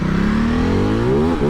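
A Ducati Desert X motorcycle on tarmac accelerates hard out of a corner, its engine rising steadily in pitch with a brief dip near the end, loud and close, with no one speaking.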